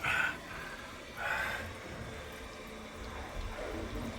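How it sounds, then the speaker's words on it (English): Water pours away down a drain pipe beneath an ensuite bathroom, a faint, continuous gurgling flow with a couple of louder surges. "Look at this, pouring away,"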